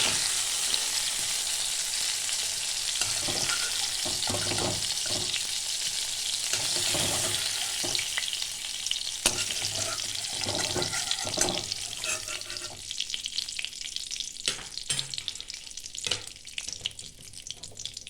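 Continuous sizzling of bata fish frying in hot oil, close up, with occasional clinks and stirring sounds toward the end.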